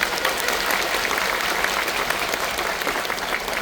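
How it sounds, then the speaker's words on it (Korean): An audience at a special lecture in a large performance hall at the Yeongwol Culture and Arts Center claps loudly and continuously, a thick, even roar of many hands that fills the whole span. "뜨거운 박수로 맞이해주셔서 진심으로 감사드립니다"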